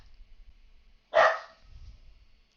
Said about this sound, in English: I don't know if you can hear them barking.